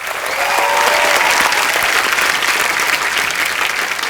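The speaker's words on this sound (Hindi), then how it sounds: "इनके लिए भी जोरदार तालियां" Applause from a TV comedy show's studio audience for a musician on stage: a dense, steady wash of clapping that holds at full strength throughout, with no speech over it.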